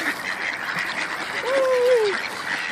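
Park ducks being fed on a cool evening give a drawn-out quacking call over a steady babble of other ducks and birds, fairly close and moderately loud.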